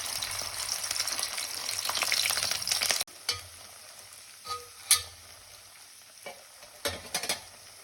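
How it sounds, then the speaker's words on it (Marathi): Spice masala with cumin hits the oil in a wok and fries with a loud, continuous sizzle, which then drops to a quieter hiss broken by several sharp scraping stirs from a spoon. "आता हा सर्व मसाला आपण कढईत टाकून घेऊया आणि तो सर्व चांगल्या प्रकारे परतून घेऊया"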